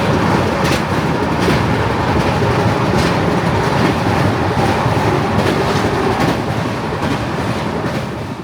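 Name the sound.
Steel Express train moving on rails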